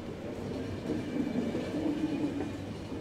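Train rolling along its tracks in the video game The Final Station, a steady low rumble of wheels and carriage that swells slightly midway and carries on throughout, with no voices.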